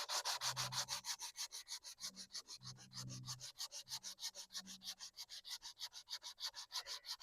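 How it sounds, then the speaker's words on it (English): Steady back-and-forth sanding strokes with an abrasive during work on a Chrysler 15 hp outboard motor water pump, a close, rhythmic rasping repeated dozens of times with a faint low hum underneath. "I got a sand belt in there"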